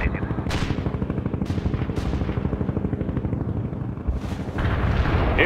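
Repeated booming artillery explosions from a barrage in the real-time strategy game World in Conflict, loud and close, with sharp blasts at intervals over a continuous rumbling battle bed.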